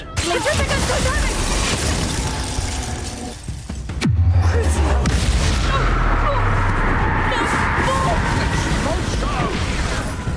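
Confringo spell blasts in the Hogwarts Legacy arena battle, a sharp crack followed by a booming, rumbling explosion with debris, amid continuous spell effects and game noise.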